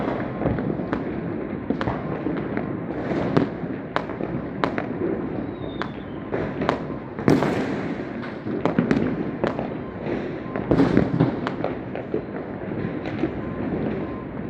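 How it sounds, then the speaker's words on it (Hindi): A long string of firecrackers bursting in Delhi, rapid irregular cracks and pops continuing without pause over a constant background roar, some sharper blasts standing out. "लग रहा था पटाखों की एक ऐसी अंतहीन लड़ी में आग लगा दी गई है जो कभी खत्म ही नहीं"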